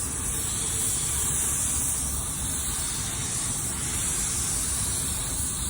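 A new spray gun applies a drop coat of paint to a costly car, producing a loud, even hiss of air and atomized paint that runs without a break throughout.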